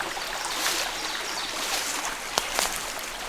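Water trickling out of an abandoned coal mine, a continuous close, bright rushing and babbling flow with a couple of small splashy accents, with no voices over it.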